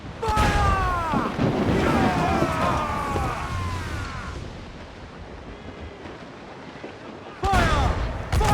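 Ship cannon volleys in Assassin's Creed IV Black Flag pirate naval combat, loud booming broadsides over wind and sea surf, with a burst near the start and another near the end, while crew voices shout throughout.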